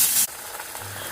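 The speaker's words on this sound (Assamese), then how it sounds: "তাৰপিছত ল' ফ্লেমত ভাজি থাকিব" Ground spice paste frying in a pan over a low flame for an Assamese potato and plantain curry, opening with a brief bright sizzle that quickly settles into a soft, steady hiss.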